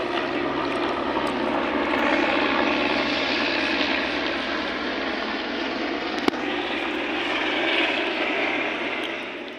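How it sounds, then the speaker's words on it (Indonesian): A helicopter drones steadily overhead, its broad engine roar swelling and easing slightly, with a brief sharp click partway through. "Non yo helikopter ang litum papak lang."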